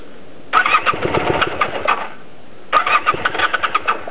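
Honda CB400T motorcycle engine cranking in two separate bursts, a close, loud, rough churning that sputters without catching, separated by a brief pause.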